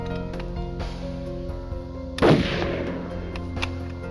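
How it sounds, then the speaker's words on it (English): A single dramatized .22 rifle shot rings out as a sharp, loud report, set over steady background music and followed by a brief decay. "Without a word, Dallas reached for his .22 rifle and carefully aimed behind the ear of Bill Pogue."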